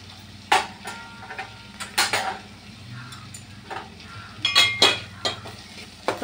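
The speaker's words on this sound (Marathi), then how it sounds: "टोमॅटो सुद्धा व्यवस्थित हलवून घ्यायचे" Tomatoes cook in oil in a pan for chana masala gravy while a utensil stirs them, making repeated clinks and scrapes against the pan over a soft steady sizzle, close by and without talking.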